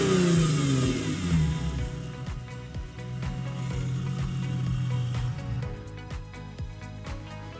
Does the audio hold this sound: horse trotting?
no